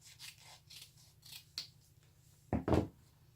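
Scissors snip and trim the sides of a laminated picture for scrapbooking, soft rustling cuts followed by a louder, close double snip near the end.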